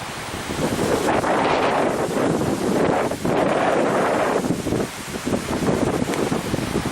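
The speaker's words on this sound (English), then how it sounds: "Pretty windy" Strong wind from Cyclone Iris buffeting the microphone, a loud roaring rumble that surges and dips, with a wash like surf in the background.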